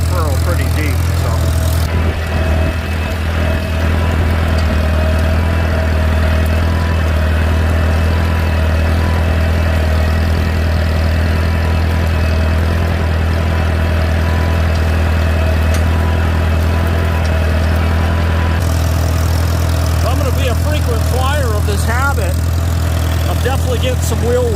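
Farmall A and Farmall H tractors plow together in a deep furrow, their engines a loud, steady low chugging that labours on without a break while people talk over the noise.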